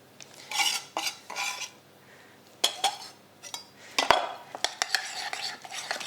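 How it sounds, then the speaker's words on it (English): Herbs being stirred into mayonnaise in a bowl, making soft scraping and stirring sounds broken by a few clinks of a utensil against the bowl, close and moderately quiet, with no talking. "Then we'll stir that in. Add our herbs, all of those going in."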